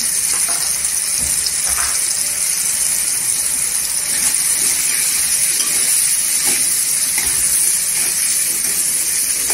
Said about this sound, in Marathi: पूर्णपणे मसाले तेलावर परतून घ्यायचा